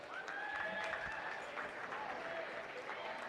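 Crowd applauding in a livestock show arena at the Monroe County Fair after a hog class, a steady wash of clapping throughout with a voice speaking over it.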